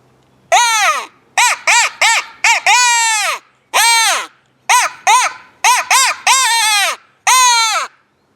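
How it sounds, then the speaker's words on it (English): A handmade King Crow game call blown outdoors in a series of about a dozen loud, harsh, nasal caws, some short and clipped, others drawn out, spaced irregularly with brief silences between. "next is the crow call. King crow. King crow is what this one's called."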